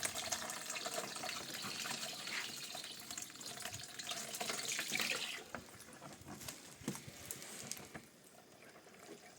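Water gushes and splashes steadily as an underfloor heating manifold is filled, loud at first and then easing into a quieter trickle toward the end.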